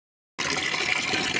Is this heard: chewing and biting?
no